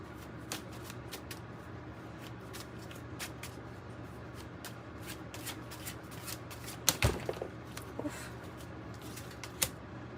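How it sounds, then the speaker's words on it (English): Tarot cards are shuffled quietly and repeatedly, with soft riffling flutters and occasional sharper snaps against a faint background hum. "It's not even shuffling very well."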